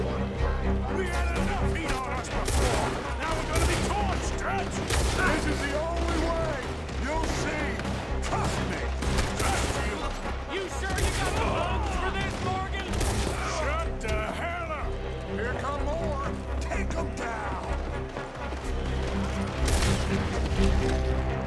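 Dense gunfire in the video game Red Dead Redemption, rapid overlapping shots and fusillades running throughout with game music and voices talking over the shooting.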